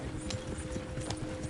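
Horses' hooves clip-clopping in Red Dead Redemption 2, a quick, steady run of soft hoofbeats over a low rumbling background, with no talk during the sound.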